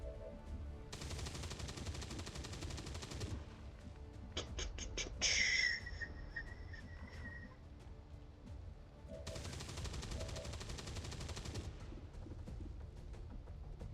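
Bursts of automatic gunfire from the video game XCOM 2, two long sustained volleys with a brief sharp burst between them, loud and alone.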